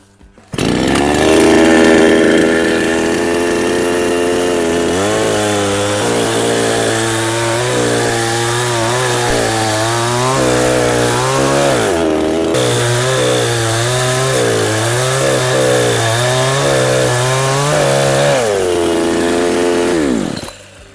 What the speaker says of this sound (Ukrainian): Бензопила Хелпер вашої уваги.